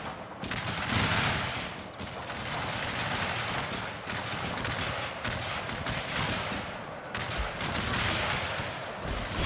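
Musket volleys crash in a Civil War battle game set at Franklin, 1864, in dense overlapping waves of gunfire that roll on continuously with booming bursts throughout.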